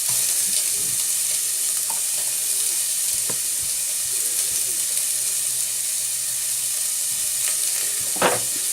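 Vegan chilli sizzles in a frying pan under a constant bright hiss while a spoon stirs it, with a few scattered scrapes and clinks, close and without speech.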